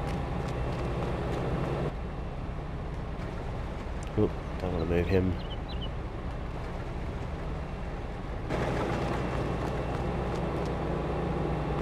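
A farm vehicle's engine runs in the video game Farming Simulator 22, a steady low droning hum that holds through the whole stretch while someone briefly speaks over it.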